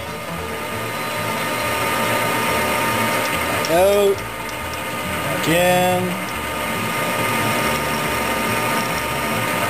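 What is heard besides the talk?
drilling into a banjo bolt with a cobalt steel bit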